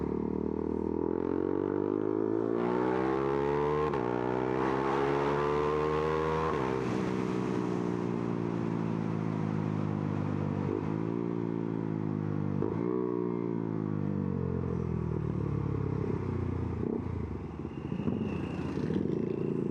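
A Husqvarna Svartpilen 401 motorcycle's exhaust sounds continuously while riding, rising in pitch through the gears, easing off and climbing again, loud and steady throughout, with no talking.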